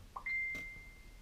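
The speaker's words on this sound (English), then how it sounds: "So there's my phone." A phone notification rings out as a short, quiet electronic ding with a sustained ringing tone, heard alone against a faint background in a quiet room.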